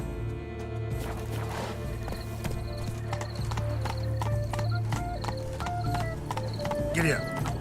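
Horse hooves clip-clop at a steady trot in The Witcher 3, a regular rhythmic clatter beneath layered game sounds, with voices speaking over it.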